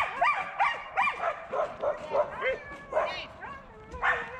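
Siberian huskies bark, yip and whimper in a rapid, excited series of close, high-pitched calls that rise and fall in steady bursts.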